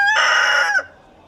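A backyard chicken gives a loud, close, drawn-out crow that stops abruptly and leaves near silence, with no talking.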